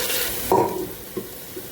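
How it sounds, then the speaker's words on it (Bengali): Capsicum and meat frying in a pan, a soft steady sizzle broken by one short loud scrape of a spatula and a fainter stir shortly after. "ক্যাপসিকামটা লাল লাল করে বেশ ভাজা হয়ে গেছে, বসিয়ে দিয়েছি। আর একটু মাংসটা কষিয়ে নিই"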